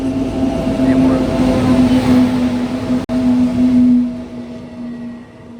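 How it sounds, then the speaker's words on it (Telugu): An oncoming train passes close by while the passenger's train waits at a station on the Narsapur–Amaravati Express route, a loud steady rumble with a sustained humming tone, briefly cut, then fading; no speech. "మన ఎదురుగా ఒక ట్రైన్ అయితే వస్తుంది, బహుశా దానివల్లే కావచ్చు."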